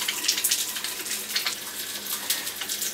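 Tap water running into a Doulton water filter, a steady hissing, splashing rush with small fluctuations, close and continuous with no talk.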